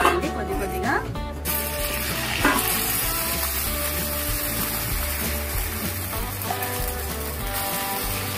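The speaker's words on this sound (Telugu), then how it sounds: "ఆయిల్ వేడైన తర్వాత మనం కలిపి పెట్టుకున్న దోశ పిండిని వేసుకోవాలండి." Dosa batter for ponganalu frying in hot oil in the wells of a paniyaram pan, giving a continuous crackling sizzle beneath music and some speech.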